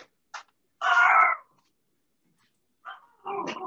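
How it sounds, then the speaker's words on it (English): Dogs barking indoors, a few short sharp barks and a louder burst separated by silence, fairly close. "Now the dogs are going crazy."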